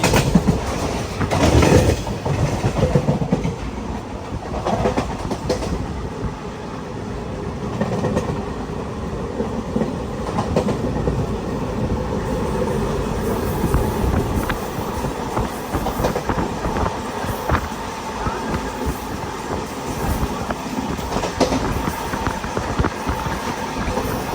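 Riding the Mangaluru to Chennai Mail, the coaches roll with a steady, close rumble and rhythmic clickety-clack of wheels over rail joints, with occasional faint squeals and no talking.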